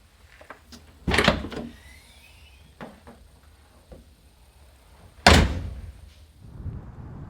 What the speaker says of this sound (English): the sound they make each time you open them.